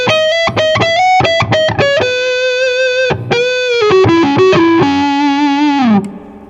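An electric guitar runs through a PRS Original Sewell 50-watt amp with treble off and bass turned all the way up, playing a loud, thick, sustained riff of picked notes and held chords that rings out before stopping abruptly.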